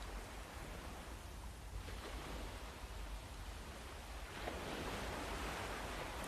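Steady broadband wash of water waves, continuous and fairly loud, swelling slightly louder toward the end, with no voices.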